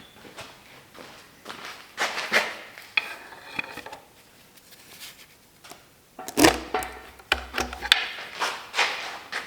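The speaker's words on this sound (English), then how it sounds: "Let's see if the valley pan will come up." A metal valley pan being worked loose and lifted off a GM L83 V8 engine, with scattered close metallic clanks, knocks and scrapes in irregular bursts separated by quieter moments.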